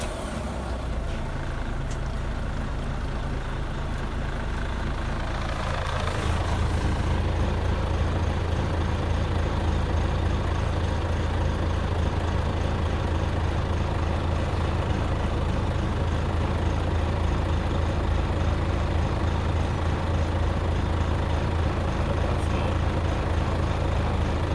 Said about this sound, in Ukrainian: Заводимо машину.